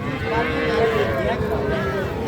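A heifer calf at a cattle market lows with a drawn-out moo that rises and wavers, heard close amid the background hubbub of the market.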